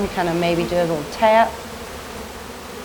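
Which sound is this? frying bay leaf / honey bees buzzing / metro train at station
honey bees buzzing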